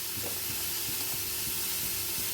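Tomato gravy (thakkali kulambu) bubbles at a rolling boil in a pot in an Indian village kitchen, giving a steady soft hiss with faint, irregular popping bubbles close by.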